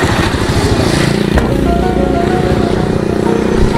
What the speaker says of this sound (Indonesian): Oh, motor bobrok.